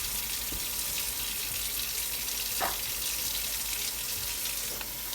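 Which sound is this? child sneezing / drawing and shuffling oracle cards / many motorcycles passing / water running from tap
water running from tap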